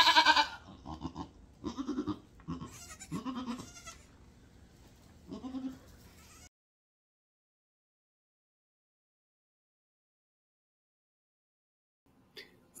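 Goats and newborn goat kids after a birth in a garage, with repeated bleats in the first six seconds, then near silence until a faint sound near the end.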